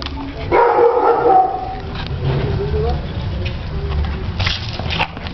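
Dog barking amid a ring sport dog trial, the bark-like bursts partly blurred by crowd noise and people talking throughout.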